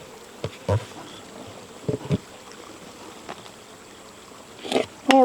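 Honey bees hum around an opened hive, a steady low drone with occasional louder buzzes as individual bees pass close, plus a few sharp nearby sounds.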